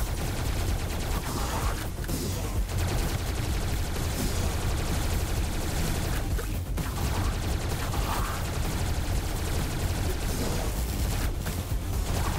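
Continuous, loud gunfire from a newly picked-up gun in the video game Tesla Force, a dense wall of rapid shots and explosions with no breaks.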